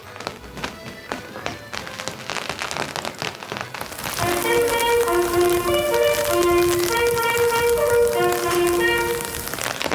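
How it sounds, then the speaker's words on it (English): Steady rain patters on surfaces outside the Palace of the Popes in Avignon, dense and close, with a melodic tune joining midway and carrying on over the rainfall. "It's raining."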